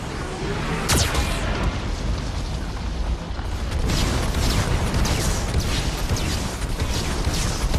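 Geth cannon firing and explosions in Mass Effect 2, a sharp blast early on followed by a dense, continuous roar of booms and rumbling impacts, loud and close, with no voices.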